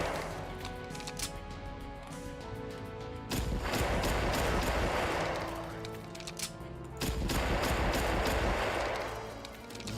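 Pistol gunfire from a DOS video game, an M1911 shooting, comes in two loud, dense bursts of shots and impacts over a steady game soundtrack.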